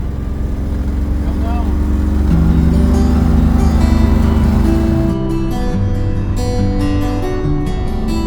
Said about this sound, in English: Driving 55 Chevy.